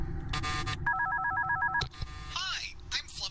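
A phone in the video game One Night at Flumpty's rings with a repeated warbling electronic trill, set among other game sounds and a person talking.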